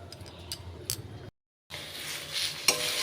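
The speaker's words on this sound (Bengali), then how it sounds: "এবার কচুর শাকটা ভালো করে কষাতে হবে" Taro leaves cooked with a hilsa fish head are stirred and sautéed in a pan, giving a steady close sizzle with a brief gap, then scraping spoon strokes and a sharp clink near the end.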